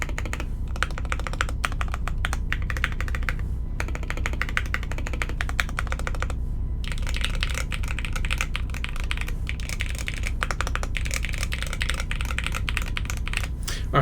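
Close, steady clacking from keystrokes on Jerkin 30 and Lubrigante mechanical keyboard builds, rapid and continuous, with short gaps around the middle and no voices over it.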